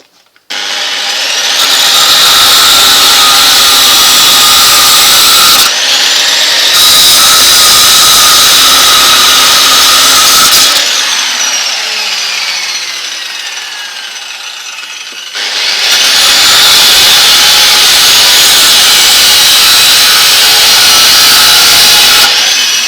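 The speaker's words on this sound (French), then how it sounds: "on coupe ça et on essaie de rallonger ça" A steering rack for a homemade buggy being cut with steady back-and-forth sawing strokes of metal, loud and close, with brief pauses between bursts and no talking.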